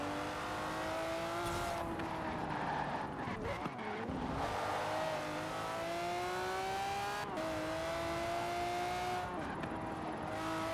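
A Lamborghini Murcielago LP670-4 SV engine in Forza Horizon 4 accelerates hard, a loud, continuous roar with rising pitch through the gears and brief dips at shifts, with occasional faint speech underneath.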